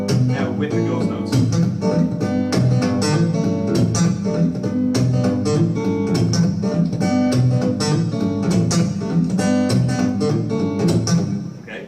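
A busy funk guitar groove with ghost notes added between the main strums, played loud and continuously at a guitar workshop. The dense rhythmic chords are filled with quick muted percussive hits, with no talking.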